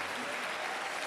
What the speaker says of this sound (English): a warmer round of applause for Phun